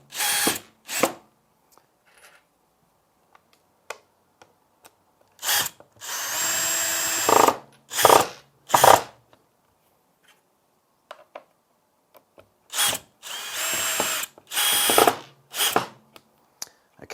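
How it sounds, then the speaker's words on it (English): A power drill drives an Urban glazing screw into the rail of a door glazing cassette, running in several short, loud bursts of whirring separated by quiet pauses, a couple of them longer runs. "So now I'm going to take the urban screw and gently, I'm not going to go all the way through"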